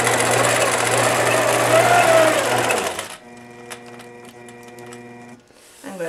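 A sewing machine running steadily for about three seconds while stitching a short back stitch to secure the thread, loud and close, then it stops and quieter clicks and mechanical ticks follow.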